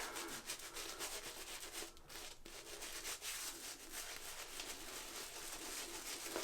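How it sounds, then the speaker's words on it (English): Shaving cream is scrubbed around a face with a steady, close, faint rubbing and brushing sound that continues without pause. "This sort of scrubbing around my face is something I learned from his video"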